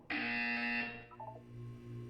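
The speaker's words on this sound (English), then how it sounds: "You will hear a buzzer." Harsh electronic buzzer from the video game Portal 2 sounds once for under a second, loud and steady, then stops, leaving a soft low hum and a few faint tonal blips.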